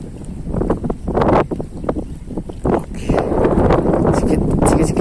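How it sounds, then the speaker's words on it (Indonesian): Strong wind gusts batter an open fishing spot with waves, roaring and buffeting the microphone continuously, while people talk underneath. "Kita mancing di kondisi angin nih"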